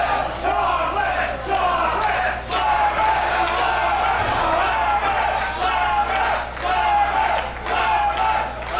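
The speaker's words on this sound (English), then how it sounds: "You can hear a lot of chants for Kid Chocolate, a lot of chants for Slammer." A live independent wrestling crowd chants rhythmically for Kid Chocolate and Slammer, loud repeated group shouts rising and falling in waves throughout the arena.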